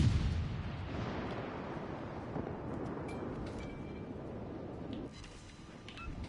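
Naval battleship gunfire in World of Warships Legends, with German battleships firing: a dense, continuous rumble of heavy booms and roaring blasts, loud and close, with thin tonal whistles faintly overhead.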